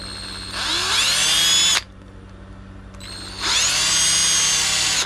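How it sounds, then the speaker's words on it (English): A power drill drilling wood whines at high speed, stops briefly, then whirs again in two loud, close bursts. "Try not to drill into my hand here."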